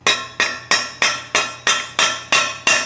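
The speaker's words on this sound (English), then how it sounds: "It's not going in properly, so I'm gonna use the good old mallet" A mallet strikes a car modification part nine times in a steady rhythm, each blow a sharp, close, ringing knock with a short decay and no talking.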